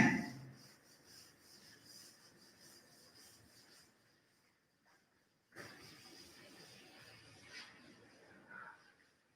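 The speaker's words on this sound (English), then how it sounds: "So I am rubbing the board." A classroom board is wiped clean with steady rubbing strokes, a soft dry scraping that runs for several seconds, pauses briefly, then resumes at a similar faint, close level.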